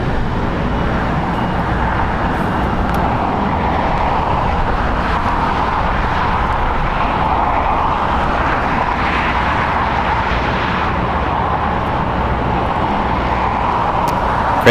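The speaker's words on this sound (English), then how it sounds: "That's Volaris flight 923 going to ZCL. It's a Airbus A320" A seven-year-old Volaris Airbus A320 jet rumbles at a busy airport, giving a continuous broad roar of engine noise at moderate distance. The roar stays steady and unbroken throughout, with no voices.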